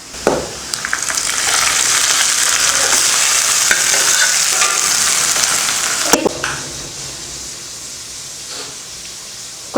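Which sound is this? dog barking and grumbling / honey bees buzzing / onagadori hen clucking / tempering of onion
tempering of onion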